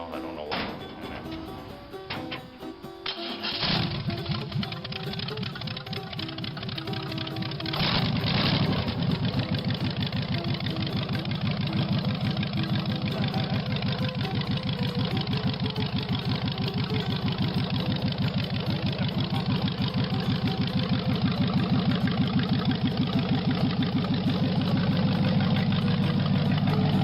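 A pulp wood truck converted into a rat rod starts up and settles into a steady, rumbling idle with a slight shake, close and loud, while someone talks over it early on.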